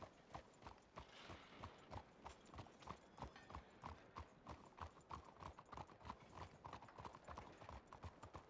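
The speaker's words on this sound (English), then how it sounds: "I just noticed you got a new horse, Nino." Horse hooves clip-clop in a steady, even rhythm on a hard surface, loud and close for the whole stretch, with no voices over them; heard in a WWRP roleplay game.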